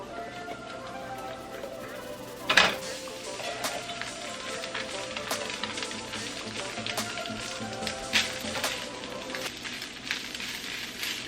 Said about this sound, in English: So I'm just going to dump in all of this rice.